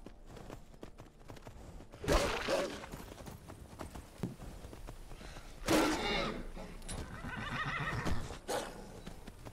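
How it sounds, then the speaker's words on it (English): Horse in Skyrim VR whinnies loudly in two bursts while hooves clip-clop beneath, mixed with in-game combat noise and background sound. "It is very hard to drive the horse and attack at the same time."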